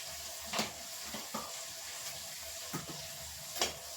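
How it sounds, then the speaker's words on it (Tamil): Green chillies frying with turmeric powder in a pan for a chilli thokku, a quiet, steady sizzle broken by a few soft scrapes and stirs. "மஞ்சத்தூள் போட்டு நல்லா வதங்கணும்."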